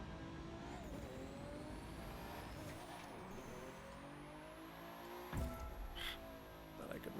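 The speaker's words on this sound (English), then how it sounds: "that nitrous boost" Engine roar of a car in The Crew 2 racing game under nitrous boost, a dense continuous drone with shifting whine and a loud thump near the end, with a voice talking over it.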